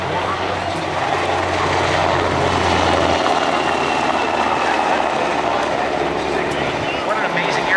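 A propeller aircraft flies past at the Jones Beach airshow with a loud, sustained engine drone that swells and holds throughout, heard from the crowd on the beach.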